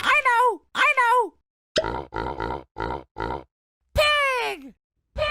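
Cartoon pig grunts in a children's animal-sounds cartoon: several short, clipped grunt bursts in a steady row, loud and close, framed by brighter voiced calls before and after.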